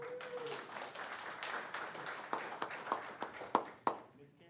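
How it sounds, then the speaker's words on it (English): Audience hand clapping at a county board of commissioners meeting, a soft scattered patter that grows into a few louder, sharper claps near the end. "Y'all give me a hand clap over here."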